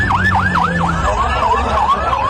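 A fire brigade vehicle's siren wails loudly nearby in quick rising-and-falling sweeps that slow into longer wails, heard at the scene of an aircraft fire in Ahmedabad.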